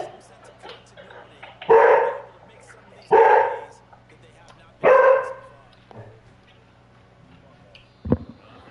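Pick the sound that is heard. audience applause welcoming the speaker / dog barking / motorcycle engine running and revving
dog barking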